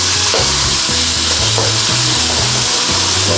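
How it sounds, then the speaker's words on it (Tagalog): Marinated chicken sizzles and fries in hot oil in a pan, with repeated rhythmic scraping strokes as it is stirred, loud and close with no talking. "mainit po ang mantika. Siyempre, ilalagay na po natin ang ating marinate na chicken."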